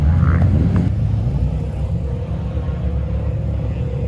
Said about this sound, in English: Cars are ripping, they're getting ready.